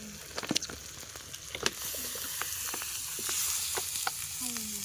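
Meat curry sizzling loudly in a pan at a winter night picnic, a steady frying hiss swelling after water is poured in, with scattered sharp crackles and spatters throughout.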